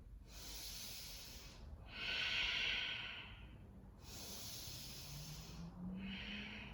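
Slow, deep breathing during a held hatha yoga lunge pose, long hissy inhales and exhales alternating in a steady rhythm, close and fairly quiet, with a faint low murmur underneath.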